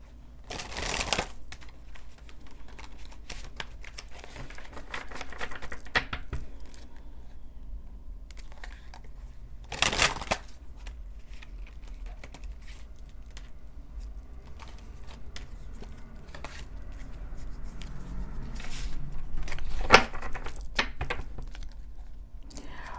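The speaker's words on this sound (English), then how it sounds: "I do shuffle the cards." Tarot cards are shuffled by hand close up, giving repeated soft riffling and flicking bursts over a quiet indoor room. Nobody speaks.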